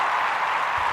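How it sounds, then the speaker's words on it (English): A brief burst of steady crowd applause inserted into a podcast, an even, continuous wash of clapping lasting about a second with no talking over it. "I will cut in a nice round of applause there"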